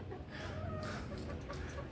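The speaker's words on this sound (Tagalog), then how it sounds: "Ayan, lumabas yung manok." A chicken clucks softly in a backyard amid a busy, noisy outdoor background, the calls faint and intermittent.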